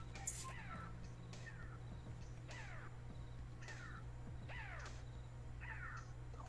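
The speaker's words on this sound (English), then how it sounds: "What the fuck is that noise? It's a crow." A crow caws repeatedly in the video game Wario World, a steady series of harsh, descending calls spaced about a second apart over a constant low background hum.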